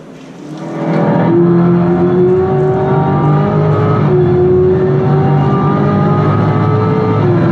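Chevrolet Corvette ZR1 with its supercharged LT5 V8 starts up at an auto show reveal in Canada, then holds a loud, steady idle with rising and falling harmonic tones close by.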